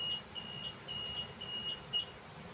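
Short electronic beeps from an Android app alarm for a laser security system repeat at a steady pace, four or five high thin tones over a low background hum, fairly quiet.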